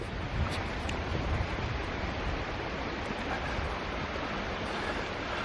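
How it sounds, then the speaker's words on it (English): Steady broadband rush of falling water, constant and fairly distant, with no voices. "there's a massive waterfall"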